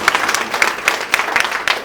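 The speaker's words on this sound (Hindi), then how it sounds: "इनके लिए यार एक बारी जोरदार तालियां बजा दीजिएगा" Audience applause at an RCM business meeting, a short dense burst of many hands clapping with a few sharper accents, steady and fairly close throughout.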